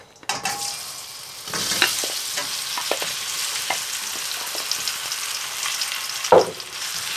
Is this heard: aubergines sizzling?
yes